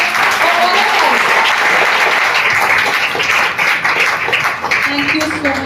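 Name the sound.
audience applause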